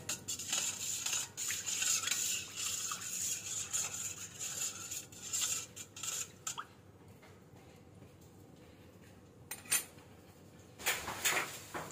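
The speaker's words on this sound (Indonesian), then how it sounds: "Telur 1 biji utuh. Lalu kita akan coba ratakan pakai sendok saja" A spoon clinks and scrapes against a bowl while mixing a whole egg for martabak batter, with soft wet squishing and a few sharper taps near the end.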